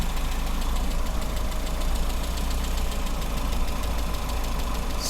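A Metro car engine idles steadily and loudly while warming up after years without running, a constant rumbling drone with a faint rhythmic ticking and no voices.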